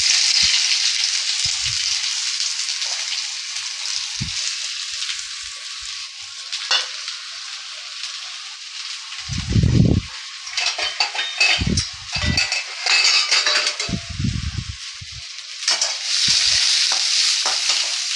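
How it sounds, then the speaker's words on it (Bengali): Onions sizzle steadily in hot oil for a veg spring roll filling, with a constant bright frying hiss and occasional scraping stirs of a utensil against the pan, close and loud, no talking. "তেলটা গরম হয়ে গেছে, আমি এর মধ্যে পেঁয়াজ দিয়ে দিচ্ছি।"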